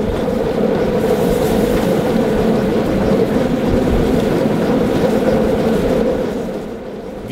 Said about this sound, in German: Wie durch einen Winterwald fährt der Zug durch das Tal der Ajach